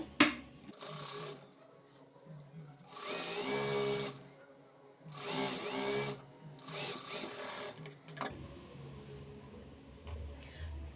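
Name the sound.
sewing machine stitching blouse lining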